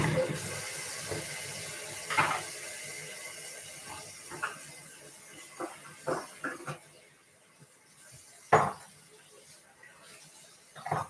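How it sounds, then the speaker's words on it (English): A kitchen tap runs as knives are washed in a sink, with water splashing unevenly and sharp clinks and clatters of metal on metal breaking through at intervals. "Sorry about the water, I was just cleaning the knives and that I've already used."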